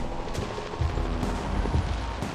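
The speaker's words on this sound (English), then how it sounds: "The noise from those fireworks should cover the sound of gunfire." Fireworks go off in the video game Alpha Protocol, a dense rumble of overlapping pops and booms under a continuous game soundscape.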